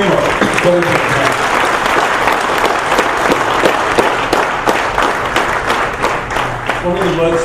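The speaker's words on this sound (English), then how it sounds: "Please give him a applause." Audience applause at an HR caucus training event, a dense and steady burst of clapping from a crowd in a hall, loud and sustained throughout, with some voices mixed in.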